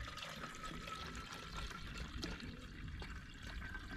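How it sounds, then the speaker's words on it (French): Water is poured into a heating system's expansion vessel during cleaning, a steady, soft rushing trickle that continues without a break at low volume throughout. "on va commencer à mettre de l'eau à l'intérieur"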